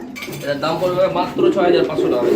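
Danish pigeons at a pigeon sale coo in short, soft rolling calls close by, with faint clinking and background bustle around them.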